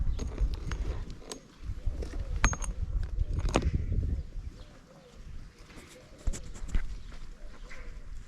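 A flock of sheep is herded toward a shearing spot beside a tree on a farm. Bleats and scattered hoof clatter rise and fall over several seconds, with a mix of nearby and more distant animals and no clear talk.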